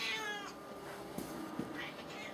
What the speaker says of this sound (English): You ever heard a cat make so much noise?